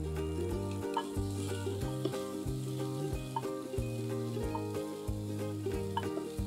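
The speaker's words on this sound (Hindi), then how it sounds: "तो पहले मैं बीटरूट और गाजर को थोड़ा सा कुक कर रही हूँ" Beetroot and carrot cook in a pan with a constant close sizzle and frying hiss, stirred now and then with soft scraping, no speech.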